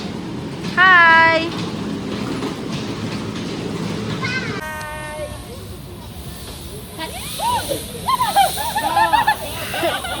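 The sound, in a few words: small amusement park ride train passing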